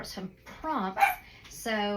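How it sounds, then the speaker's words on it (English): Dogs bark in the background as a few short, loud yelps with harmonic bursts, mixed with someone talking nearby. "my dogs are barking in the background"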